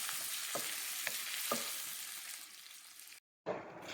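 Sayote and chicken cooking in a pan give a steady, fairly faint sizzle with a few soft clinks of stirring, cut by a brief silent gap near the end before the sizzle resumes.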